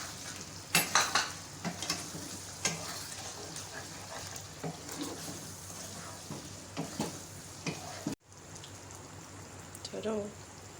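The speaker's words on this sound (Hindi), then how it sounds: "अब दही डाल कर इसको भूनें अच्छी तरह से।" Potatoes and yogurt for aloo karahi fry in a pan with a soft, steady sizzle, broken by scraping stirs and clatters of the spoon against the pan, close by with no talk.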